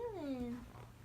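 A cat gives one short, close meow with a falling pitch indoors. It is quiet, and room noise sits beneath it.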